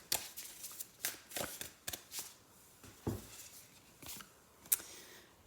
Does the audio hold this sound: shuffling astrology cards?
yes